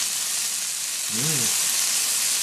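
Vegetables for a Creole achard stir-frying in a wok, with a steady broadband sizzle throughout and a brief low voice murmur partway through.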